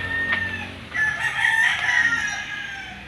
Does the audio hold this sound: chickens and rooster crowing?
yes